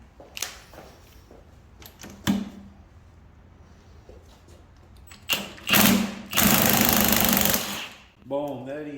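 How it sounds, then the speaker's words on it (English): Impact gun on an MT82 transmission during disassembly, pulling a part with a three-jaw puller: a few short bursts, then one long loud rattling hammer burst up close, with a brief whir trailing at the end. "Get my impact gun here."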